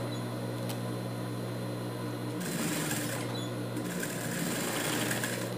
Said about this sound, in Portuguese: vou costurar toda a volta.